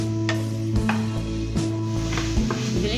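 Sliced onions and tomatoes sautéing in a pan for butter chicken, a steady soft sizzle with occasional stirring scrapes and clinks, close up and without talk, under a faint background hum.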